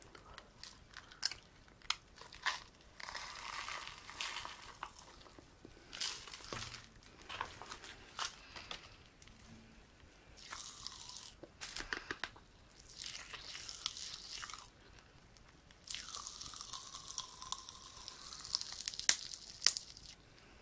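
Hard candy is crunched and chewed right against the microphone, bursts of crisp cracking and wet munching with brief pauses between bites, intimate and close with no talking.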